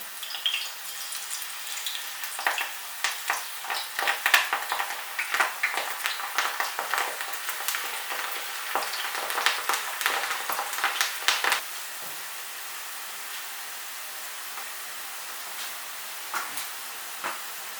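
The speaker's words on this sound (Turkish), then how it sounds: "Şimdi kuruttuğum patates kabuklarını kızgın yağın içerisine atıyorum." Dried potato peels dropped into hot oil crackle and sizzle with irregular pops as pieces hit the pan, fading to a softer steady hiss.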